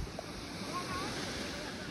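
Steady wash of small ocean waves at a sheltered bay beach, a continuous low surf hiss mixed with wind noise buffeting the microphone, with no distinct breaking crashes.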